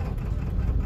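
Ford diesel truck engine idling in a steady low rumble, close and continuous with no change in pace over a short stretch.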